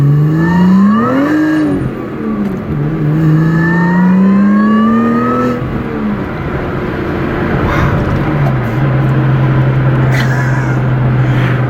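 A Lotus Evora S in sport mode, heard with the windows down, revs repeatedly in rising, sweeping bursts of engine howl, then settles into a steady, throaty drone, loud and close.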